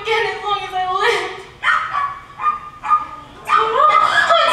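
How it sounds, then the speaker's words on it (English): A dog on stage in a school production of The Wizard of Oz gives a string of short, high yips and whimpers up close, in several bursts with pauses between them. "Oh, Toto, you came back! Oh, you got away from her! Oh, you wonderful dog"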